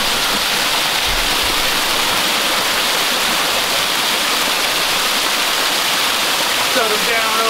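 Muddy Creek Falls pours down in a loud, continuous broadband rush of falling water, steady and near throughout with no break.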